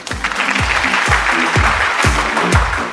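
Studio audience on a cooking show clapping in time over a thumping rhythmic beat, with regular heavy pulses about twice a second under the steady applause.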